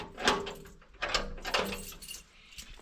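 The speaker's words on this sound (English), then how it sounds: "For now we have to close the doors because nobody's around." Doors of a house being closed: three or four clattering knocks and bangs at uneven intervals with a metallic rattle, moderately near, and no speech.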